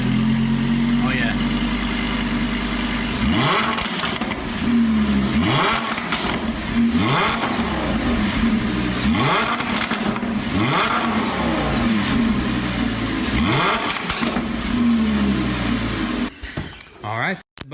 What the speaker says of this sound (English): gives that deep level of difference between the exhaust tones.